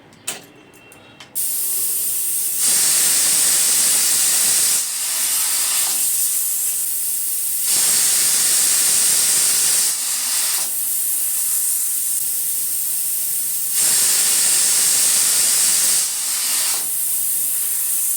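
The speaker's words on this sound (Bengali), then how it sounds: "এবারে প্রেসার কুকারের ঢাকনাটা বন্ধ করে আমরা 3টে সিটি দিয়ে নেব।" A pressure cooker on the stove, cooking carrots in water, lets out loud bursts of hissing steam, each lasting several seconds, separated by quieter gaps, with no voices.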